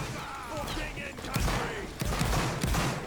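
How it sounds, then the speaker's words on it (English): Musket volleys in a video game battle, a dense crackle of overlapping gunshots bursting out at intervals over constant battlefield noise, loud and close, with voices shouting over it. "Hold shots and shoot them now."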